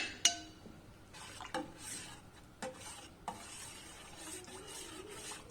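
Chopped ginger and garlic being stirred into a pot of chicken soup, a few soft scraping and clinking strokes of a spoon against the pan, quiet and close, separated by short pauses.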